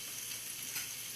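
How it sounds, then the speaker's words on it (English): Ground meat browning in a pan gives a steady, close, hissing sizzle, with no pauses across the brief stretch. "can you see here that we're browning our meat?"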